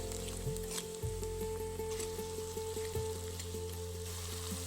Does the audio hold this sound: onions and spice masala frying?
yes